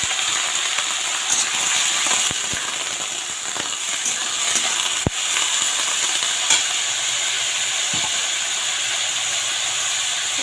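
Radish pieces fry with salt in a pan, a steady, close broadband sizzle and hiss running throughout, broken by occasional sharp clicks of stirring.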